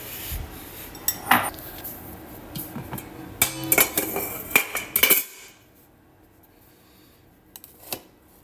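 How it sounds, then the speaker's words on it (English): Utensils clink and scrape against a bowl as rice and braised Taiwanese pork belly are scooped in, a busy run of close clatter that ends abruptly, then near silence with a couple of faint taps. "So I'm gonna get some rice for my bowl, and I'm gonna put some pork belly here."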